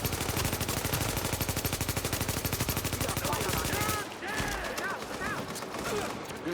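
Video game firefight with sustained rapid automatic gunfire for about four seconds, loud and steady, then cutting off into quieter battle ambience with voices speaking.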